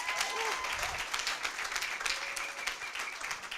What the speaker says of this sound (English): Clap hands.